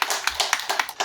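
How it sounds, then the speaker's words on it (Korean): A church congregation claps in welcome during a Sunday worship service, a quick, brisk patter of many hands in a short, rhythmic burst. "박수 한번 보내드릴까요?"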